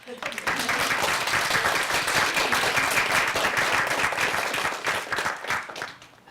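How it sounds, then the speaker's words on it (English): Audience applause after a reading at an alumni writers' forum, a dense burst of clapping that fills the room, holds steady for several seconds and then fades out. "And now we're going to clap."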